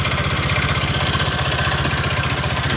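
A Honda Vario scooter engine, running after its water pump is refilled, gives a steady, loud and close pulsing drone with a fast, even beat throughout.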